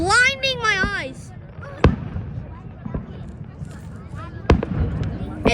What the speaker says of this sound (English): I hear whistling fireworks.